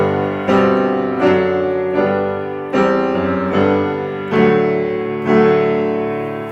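Recorded German chorale hymn tune from a Bach cantata, a steadfast, powerful melody sung in full harmony, with chords changing about every second in a slow, stately pulse, loud and alone without talk.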